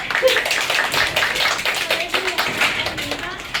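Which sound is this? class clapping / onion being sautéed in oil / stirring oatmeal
class clapping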